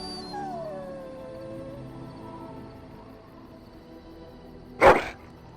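A dog in the video game Dragon Age: Origins gives a drawn-out, wavering howl over a quiet ambient bed, then one sharp, loud bark near the end.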